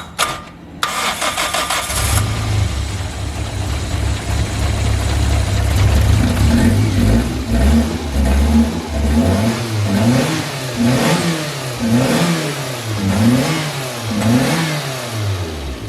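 A stock Toyota Starlet engine fitted with individual throttle bodies and an aftermarket exhaust cranks and catches, then settles into a loud idle before being revved repeatedly in rising and falling bursts, close by.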